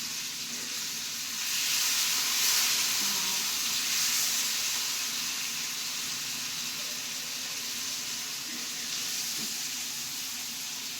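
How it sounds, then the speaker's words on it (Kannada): Fish frying in oil on a tawa, a steady, fairly quiet sizzle and hiss that keeps going without a break, with no talk. "ಚೆನ್ನಾಗಿ ತವ ಫ್ರೈ ಮಾಡ್ಕೊಂಬಿಡೋಣ"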